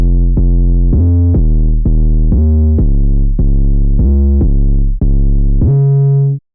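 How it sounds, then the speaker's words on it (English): Blade, an 808 bass preset in Serum made for trap and future bass, plays a loud, deep booming bass riff of punchy repeated notes that slide between pitches, with a final held note, alone and without talking. "It's called Blade and it sounds like this."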